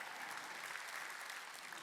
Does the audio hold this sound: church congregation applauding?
yes